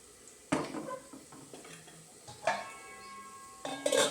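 A hot iron appam kadai is lifted and swirled by hand to spread the batter, giving loud metallic clanks and scrapes in three bursts with ringing resonance between them, and no voices.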